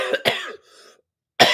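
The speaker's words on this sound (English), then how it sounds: "The cough persists." A person coughs several times in quick, close bursts with a short quiet gap, then one more hard cough at the end.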